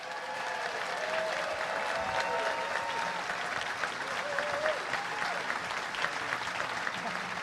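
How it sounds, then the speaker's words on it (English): A room full of people at a panel discussion applauds steadily, a dense wash of clapping that holds at an even level, with faint voices mixed in. "Big round of applause."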